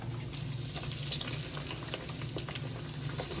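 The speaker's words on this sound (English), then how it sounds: "I'm going to fry them for about 2 minutes." Slices sizzle in hot oil with a continuous crackling hiss and scattered pops, close by, without any talking.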